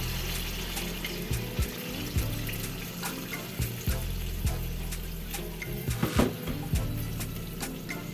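A steady stream of water pours continuously into a frying pan of rice for plov, with a few soft clinks and knocks scattered through it.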